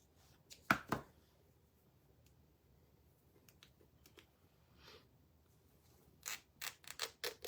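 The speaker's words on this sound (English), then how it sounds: "I'm going to cut the bottom edge off." Scissors snip along the bottom edge of a paper honey bee decoration, with a couple of loud snips early on and a quick cluster of crisp cuts near the end, separated by quiet rustling.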